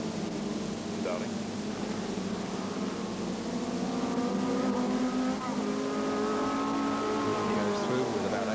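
Small racing cars contest the 1981 Super Mini Series at Amaroo Park circuit, their engines droning steadily at a distance beneath continuous race commentary.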